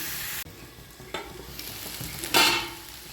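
Beef pepper fry sizzles steadily in a pan while a spoon stirs and scrapes through it, with a few louder bursts of scraping and sizzle, heard up close and without talk.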